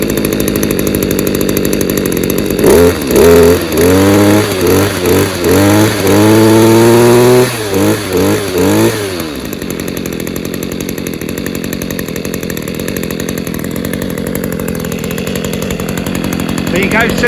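A refurbished Stihl KM94rc combi engine fires up and runs, a loud close two-stroke buzz that revs up and down in bursts, then settles into a steady idle.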